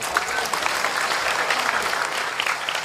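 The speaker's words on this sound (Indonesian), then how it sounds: "Tepuk tangan untuk warga Trenggalek." Sustained applause from a crowd of residents of Trenggalek at a public gathering, a dense, even roar of many hands clapping at moderate loudness for about three seconds, with a faint voice under it.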